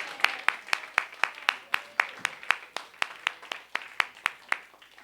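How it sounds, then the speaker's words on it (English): An audience claps in applause at an indoor spiritual talk, a sparse, slow group clapping with distinct rhythmic beats about every quarter second, moderately close and steady for around five seconds. "Let's give you a round of applause for going to the events."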